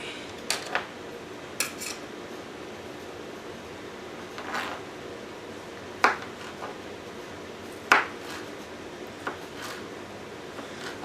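Metal utensils cut chicken in a dish with butter, giving sparse clinks and scrapes against the dish over a quiet room hum, several distinct taps spaced a second or two apart.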